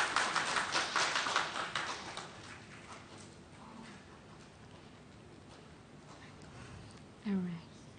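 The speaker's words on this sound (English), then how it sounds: "Let's give applause for them." Audience applause for the two hosts at a youth diplomacy event, loud and dense over the first couple of seconds, then thinning and fading under voices and room murmur.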